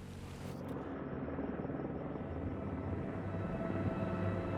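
A police helicopter flies at night, its steady rotor and engine drone filling the scene continuously at a moderate distance, holding an even level throughout.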